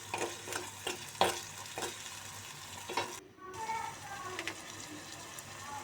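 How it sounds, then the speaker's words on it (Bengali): Onion and garlic fry in oil for a rohu fish curry with spring onion greens and tomato, a soft continuous sizzle under repeated scraping stirs and sharp utensil taps, fairly quiet and close, with no talk. "তো আমি পেঁয়াজ দিয়ে দিলাম, রসুন, লবণ, এগুলো ফ্রাই করে নেব।"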